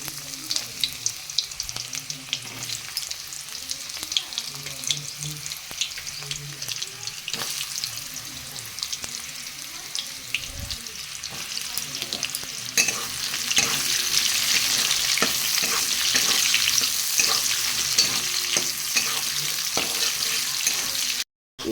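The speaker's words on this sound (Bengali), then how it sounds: "গাজরটা কেটেছিলাম ওইটা ভালো মতন ভেজে নেব" Sliced carrots fry in mustard oil with bay leaf, cumin and dried red chilli, giving a steady crackling sizzle that swells louder partway through, with occasional stirring clinks and no talk.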